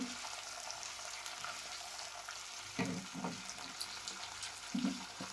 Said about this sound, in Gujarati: તો મિત્રો, આપણા તડકો ફ્રાય થાય સારી રીતે.